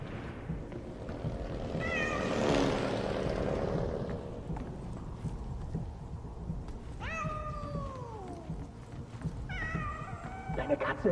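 Several cat meows in the video game 11-11 Memories Retold, plaintive rising-and-falling cries arriving in separate bursts over a faint ambient background, with a voice speaking early on.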